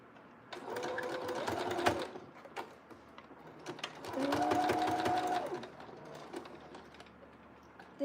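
A sewing machine zigzag-stitching along a fabric edge for a jumpsuit runs in two sustained bursts with a pause between, close and steady, its motor whirring with a rapid needle chatter.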